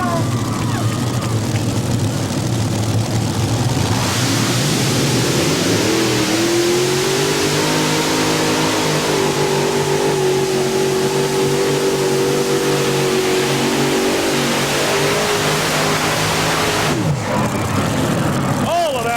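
A modified pulling tractor with multiple Hemi engines roars at a 1991 NTPA tractor pull in Chapel Hill, Tennessee, loud and sustained, the pitch rising and holding as it revs, with an announcer talking over it.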